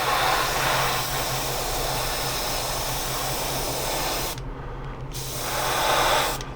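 Continuous close hiss of spray paint coating a 1/25 scale 1962 Thunderbird model, broken by one brief pause and a short stop near the end.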